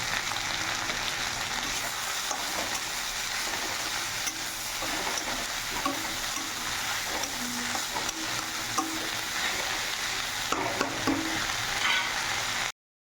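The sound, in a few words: frying and stirring kharkon leaves in a pan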